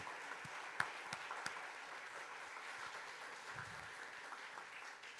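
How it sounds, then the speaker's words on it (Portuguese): Soft, distant applause from a crowd inside the basilica at the Fatima sanctuary during a volunteers' jubilee, a low even patter with a few sharper claps early on. "Pedi uma salva de palmas para as voluntárias das conferências de São Vicente."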